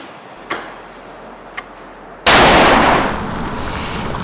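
A Soviet gun fires one loud, sharp blast at close range. A few faint clicks of handling come first, and the shot's broad roar then decays slowly.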